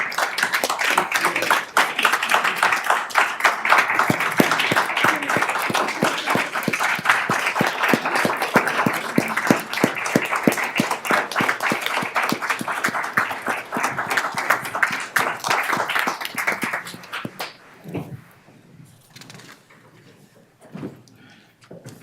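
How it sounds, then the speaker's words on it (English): Round of applause at a school board meeting for outgoing board members, steady hand clapping from a modest room of people for about seventeen seconds before fading into a few scattered sounds. "If we can give a round of applause for our outgoing board members."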